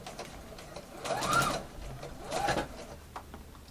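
A sewing machine stitches a French seam in sheer fabric using contrasting thread, running in two short whirring bursts with a quiet pause between them.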